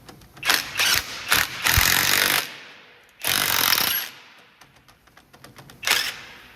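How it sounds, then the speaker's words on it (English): A cheap knockoff DeWalt cordless impact gun rattles in loud, close bursts, short hammering runs then a longer one, while working on a Ford F-250/F-350 steering drag link and tie rod end. "See if the AliExpress knockoff DeWalt gun works."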